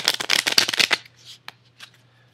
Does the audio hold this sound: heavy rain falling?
no